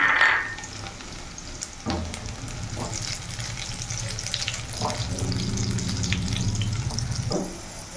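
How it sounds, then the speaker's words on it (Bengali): Onions with green chillies frying in a pan, a steady moderate sizzle with scraping stir strokes and occasional louder clatters, no voices over it. "পেঁয়াজটা আমার ভাজা হয়ে গেছে"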